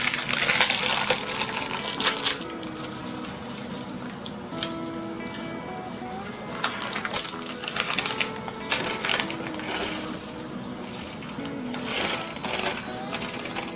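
Glass beads for handmade jewelry are handled and poured, giving busy clicking and light rattling clinks, close and moderately loud, with scattered louder clatters throughout.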